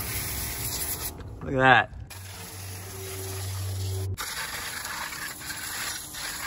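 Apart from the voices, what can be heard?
spraying degreaser on Fisker Karma engine block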